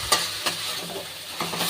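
Snake gourd frying in oil left over from frying prawns, a steady close sizzle with a few sharp utensil scrapes and stirring knocks.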